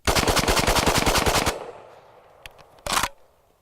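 Rapid fire from a rifle shooting steel-case Tula ammunition: a fast, loud string of close shots for about a second and a half, then quiet, a faint click, and one more short burst.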